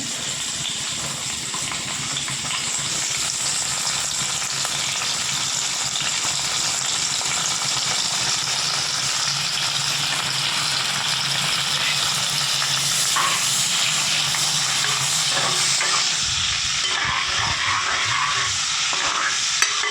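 Onions and dried prawns fry in hot oil for an egg and prawn curry, producing a dense, steady hiss and crackle close up, with occasional stirring scrapes and a slight shift in tone near the end.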